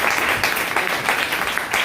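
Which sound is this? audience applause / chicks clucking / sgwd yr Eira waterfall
audience applause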